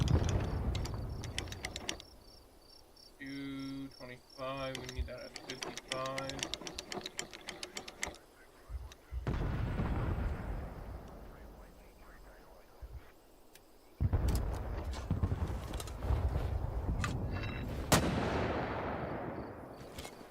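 Mortar fire in the video game Hell Let Loose Vietnam: booming launches and distant explosions rumble across a few seconds, with mechanical clatter and a voice talking between the blasts.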